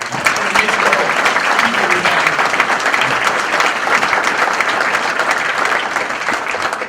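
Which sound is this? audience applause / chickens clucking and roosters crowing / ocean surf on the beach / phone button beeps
audience applause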